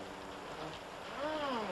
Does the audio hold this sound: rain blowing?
yes